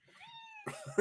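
A house cat makes a short rising, tonal meow-like cry at close range, followed by a couple of brief throaty bursts, all heard alone without talk.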